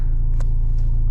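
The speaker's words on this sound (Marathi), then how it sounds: "गाडी चालू केली आता" A car engine idles with a steady low rumble, broken by a couple of brief sharp clicks.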